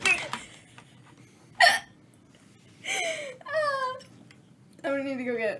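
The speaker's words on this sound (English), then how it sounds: "You got the hiccups?" A person hiccups several times in short, sharp, squeaky bursts, close and clear over a quiet background.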